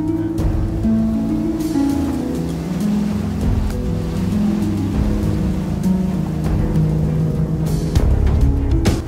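A Land Rover Defender pushes through deep water, its engine droning low beneath continuous sloshing and splashing, with a few sharper splashes and a louder surge near the end.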